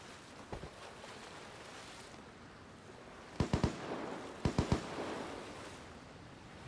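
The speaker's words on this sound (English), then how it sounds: "Shooting there." Gunshots in the Vigor video game ring out in clusters: a faint pair early, then two loud, close triple bursts later, with a low ambient wash underneath and no voices.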